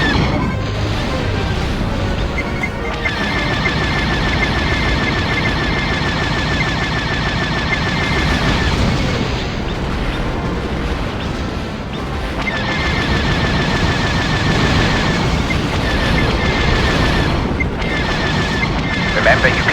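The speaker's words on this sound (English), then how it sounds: "Also, link your laser fire together by pressing the X key." Laser cannons firing in the TIE Fighter space combat game, a steady rapid stream of blasts and crashes over continuous engine and battle noise, with a voice talking through much of it.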